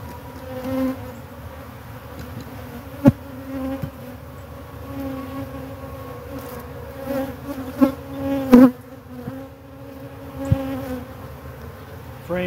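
Honeybees buzzing at a Layens hive during spring prep, a steady low drone with a few sharper close passes and brief knocks along the way.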